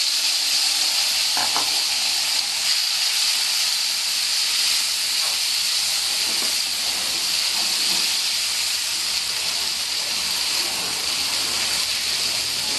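Potatoes frying in a pan of hot oil for a Bengali-style mourola fish and spring onion dish, giving a steady, close hiss and sizzle throughout with no talking.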